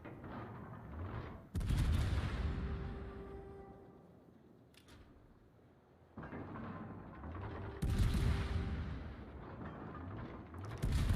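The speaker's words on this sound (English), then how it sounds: "you are shooting the Condi who's sailing away from you" Ship guns firing in World of Warships aboard the Clausewitz, a German tier 10 cruiser, two heavy booming salvos with rolling rumbling decay between them, loud and close.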